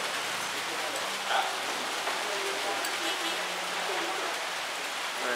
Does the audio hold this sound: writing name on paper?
no